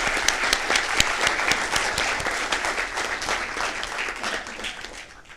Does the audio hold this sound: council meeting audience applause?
yes